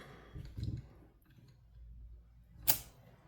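A paper punch clicks once, sharp and brief, as it punches the corner of an envelope while making a greeting card. Soft handling rustles come just before it.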